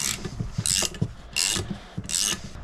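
A nut is tightened with repeated rasping, grinding turns, three distinct bursts of close scraping with light clicks between them.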